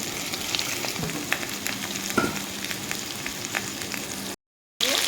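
Chopped vegetables and whole cumin sizzle steadily in hot oil in a pan, a close, continuous frying hiss with occasional stirring scrapes, briefly cutting out near the end, with no talking.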